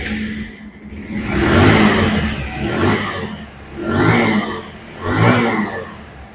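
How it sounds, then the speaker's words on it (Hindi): A Bajaj Pulsar 125cc motorcycle engine, fitted with a new ECM and a replacement carburetor, runs close by and revs up and down in several repeated surges. "मैं आपको दिखा देता हूँ सबसे पहले बाइक स्टार्ट हो रहा है कि नहीं।"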